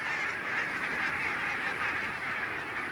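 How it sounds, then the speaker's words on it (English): A flock of barnacle geese grazing on protected meadows beside a harbour aircraft plant in Hamburg gives a dense, continuous chorus of honking and calling, loud and unbroken throughout. "thousands of barnacle geese graze on protected meadows"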